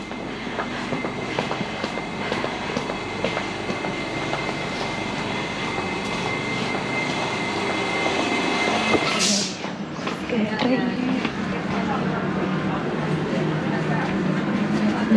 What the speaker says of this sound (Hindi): चल रहे हैं, ये है लंदन का ट्रेन।